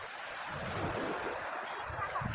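Waves wash in a continuous soft roar, mixed with wind buffeting the microphone, fairly faint and steady.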